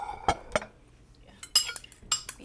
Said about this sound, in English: Let me beat my eggs here.